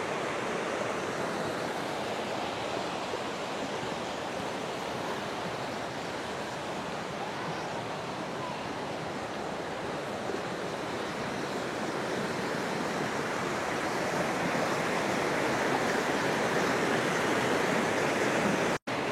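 A small waterfall and stream in Massachusetts pour with a steady, loud, broadband rush of flowing water, unbroken and close for the whole stretch.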